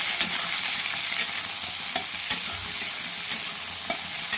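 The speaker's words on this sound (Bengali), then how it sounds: "এবার চেরা কাঁচা লঙ্কা দিয়ে দিলাম, এবার হালকা করে ভেজে নেব।" Potatoes, ridge gourd and slit green chilies frying in a pan, a steady close sizzle broken by soft scraping strokes and occasional sharp clicks as a spatula stirs the vegetables.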